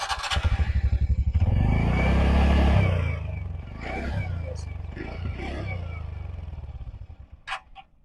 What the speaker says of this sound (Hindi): ये रही इसकी रियल एग्जॉस्ट की साउंड